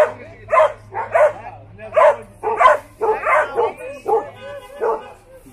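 Dogs bark in a busy street setting, a string of repeated yapping barks and yips at close range, steady for several seconds over a faint low hum.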